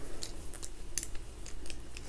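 Scissors taken from a crochet bag are handled up close, giving a few light metallic clicks and snips over quiet rustling.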